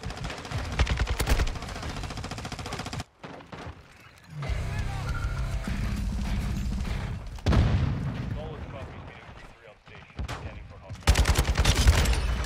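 Rapid bursts of assault rifle fire from the Cast-Off 7.62 in a first-person shooter, loud and close, coming in several sustained strings with short pauses and a quieter stretch in between, with a voice talking over parts of it.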